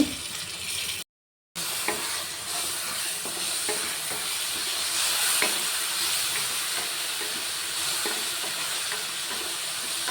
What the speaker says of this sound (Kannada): ನಾನೀಗ ಟೊಮೆಟೊ ಹಾಕ್ಕೊಂಡು ಇದನ್ನು ಅಷ್ಟೇ ಫ್ರೈ ಮಾಡ್ಕೋಬೇಕು